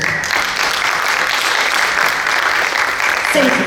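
Audience applause fills a room at a candidate Q&A, dense steady clapping held at a loud level throughout, with a voice breaking in near the end.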